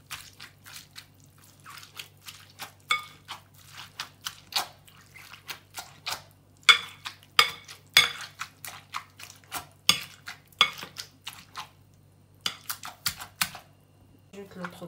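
Cauliflower is mashed in a baking dish with irregular soft squishing thuds and clicks of a utensil against the dish, close up, in short bursts separated by pauses.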